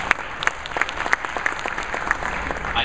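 A keynote audience claps steadily, a dense, even patter of many hands that carries on for a few seconds with no voices over it.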